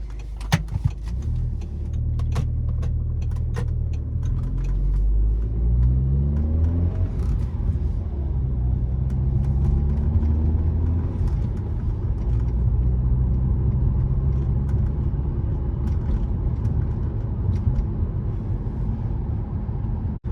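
An Audi S3 8P with a 260 BHP turbo engine is driven from the cabin, its steady engine rumble rising and falling through gear changes, loud and continuous for the whole stretch with no talking.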